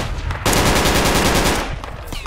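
Machine gun fire in the military video game Project Reality, a loud, rapid sustained burst lasting about a second, close and dominant, with quieter ambience before and after.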